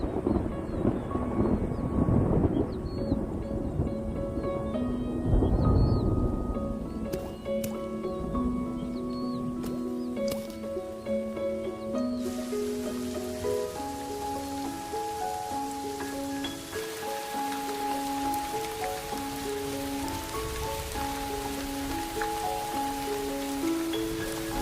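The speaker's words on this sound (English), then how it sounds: "After months of drought and struggle, the rains finally arrive." Steady rain falls on surfaces with some wind buffeting the microphone, continuing throughout while a melodic musical score rises over it; no distinct thunder cracks stand out and no one speaks.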